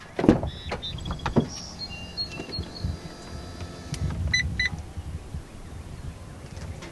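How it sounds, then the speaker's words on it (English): A 2022 Honda Passport TrailSport SUV door unlocks through its smart entry handle, a short mechanical thunk and latch clatter near the start followed by faint electronic clicks and chirps from the car, with soft outdoor background and no talking. "just grab behind the handle, it will unlock."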